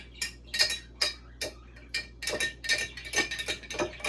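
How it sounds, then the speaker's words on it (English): A spoon stirs honey and cinnamon in a cup, making a quick, close series of bright metallic clinks and scrapes that grow busier toward the end, with no talk. "You have to stir this for a minute because of the gluey honey, and you want to dissolve the cinnamon."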